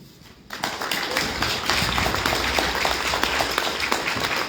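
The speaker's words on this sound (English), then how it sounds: "Please give her another round of applause." Audience applause at a St Paul rally for families of police brutality victims, a sudden burst of many hands clapping that starts after a brief pause and holds steady and loud to the end.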